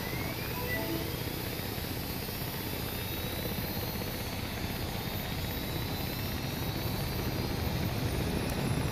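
Helicopter lifting off in the video game Arma 3: a loud, continuous rotor and turbine roar with steady chopping texture and a slowly rising whine, sustained throughout without speech.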